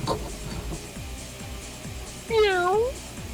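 A house cat lets out one clear, drawn-out meow partway through, standing above a low, steady indoor background hum.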